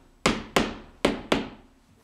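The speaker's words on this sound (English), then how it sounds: "Or you can take a hammer, just pound it back in." A hammer pounds loosened wooden door trim back into a bedroom door jamb: four sharp, close blows, evenly spaced, each ringing out briefly.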